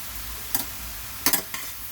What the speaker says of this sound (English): Just toss that meat around in there.